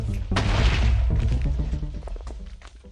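TNT blasting a spruce tree farm in Minecraft: a loud deep boom opening into a rumbling cluster of smaller pops and thuds that fade over a few seconds.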